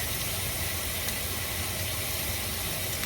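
Minced garlic and ginger paste sizzle with browned meat in a hot pan, a steady, loud hiss of frying that stays even throughout.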